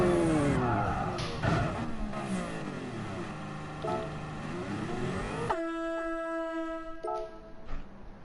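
A Formula 1 car in a PS4 racing game screams through rising and falling engine revs with downshifts, then a sustained tyre skid squeal, loud and close, with no talking.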